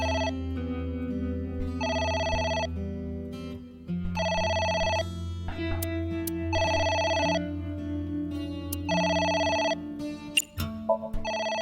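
A telephone ringing in the video game AI: The Somnium Files, four evenly spaced electronic ring bursts over a low background music bed, clear and close.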